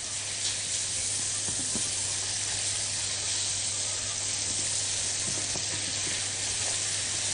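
Onion sautéing in a pan with black pepper, a pinch of cinnamon and salt, a steady, close sizzle and fry hiss with occasional faint stirring taps, continuous without talk.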